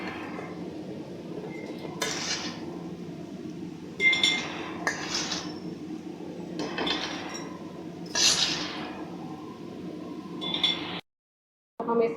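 Lasoda (cordia myxa) pickle spooned into a clean, dry glass jar, with repeated clinks and scrapes of a utensil against glass in short bursts, fairly close and with no talking.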